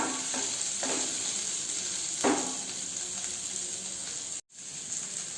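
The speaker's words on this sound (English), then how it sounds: "So let the onion get cooked for a minute or so." Onion frying in a pan gives a constant bright sizzle, with a few sharper crackles and tossing sounds over it and a brief cut near the end.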